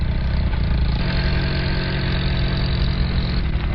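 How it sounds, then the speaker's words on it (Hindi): A jeep engine running, a continuous mid-pitched rumble with steady knocking pulses, loud and close, with no voices. "गुल्ली बुल्ली और सोन जंडू चाचा के यहाँ जाने के लिए जीप से निकल जाते हैं"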